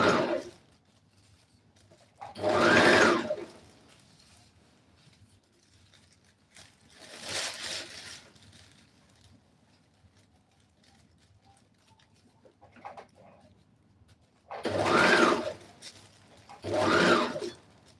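A sewing machine runs zigzag stitches along jacket fabric in several separate bursts, each a few seconds long, with quiet pauses between runs; close and fairly loud, with no talking.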